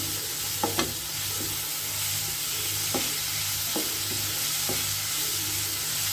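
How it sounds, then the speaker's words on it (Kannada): Small chopped ingredients frying until crisp in a pan for a Havyaka summer dish, a soft continuous sizzle with a low hum beneath and a few sharp stirring clicks, close and fairly quiet, no talking. "ಇದನ್ನ ಇವಾಗ ಚೆನ್ನಾಗಿ ಫ್ರೈ ಆಗ್ಬೇಕು ಕ್ರಿಸ್ಪಿ ಆಗಬೇಕು"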